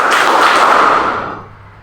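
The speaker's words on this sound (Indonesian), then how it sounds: "Tepuk tangan tiga." A class of students claps together in a loud burst of rhythmic claps. The smeared, crowded slaps trail off into quiet within about two seconds.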